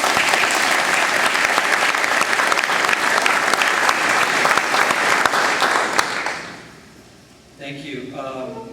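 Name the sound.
audience applause welcoming speaker Charley Shimanski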